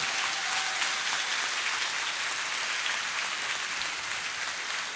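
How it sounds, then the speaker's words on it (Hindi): A seated crowd at a motivational session for exam students claps for parents, a broad, even wash of applause held at moderate loudness from start to finish with no voices above it. "एक बार माँ बाप के लिए फिर से जोरदार तालियां बजा दीजिए"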